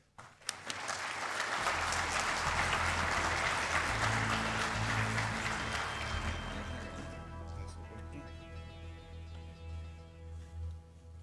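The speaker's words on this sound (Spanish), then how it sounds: "pido un fuerte aplauso para don Alberto Valdés" Audience applause welcomes Alberto Valdés, an associate researcher at the Universidad Católica, at the Enagro national agriculture meeting; a strong burst of crowd clapping rises quickly, then fades gradually over a low steady hum.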